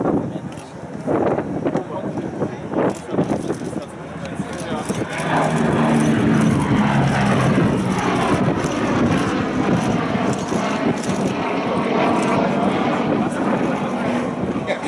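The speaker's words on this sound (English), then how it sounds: "Exhaust almost sounds like a jet engine when it goes over." A Lockheed P-38 Lightning propeller plane roars overhead at a flight demonstration, its engine noise swelling loud and steady against gusting wind, with talking heard over it early on.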